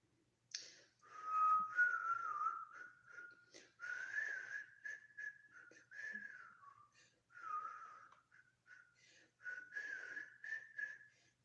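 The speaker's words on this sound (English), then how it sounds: "It's the weakest whistle I ever whistled right there." A person whistles a thin, wavering tune in several short phrases separated by brief pauses, close and fairly quiet against a silent background.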